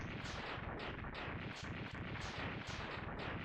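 Explosion effects from the Mega Man X3 video game: dense, continuous bursts of rumbling blasts repeating roughly every half second, loud and steady with no talk over them.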